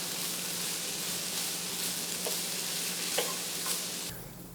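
Broccoli stirred as it fries in a pan, making a constant even sizzle with a few faint spatula scrapes, until the sound drops away abruptly near the end, with no speech.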